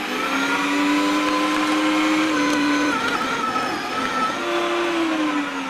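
A large meat-processing machine for sausage-making grinds meat and fat with a loud, steady motor whine, its pitch sagging and recovering under load, running continuously and close by.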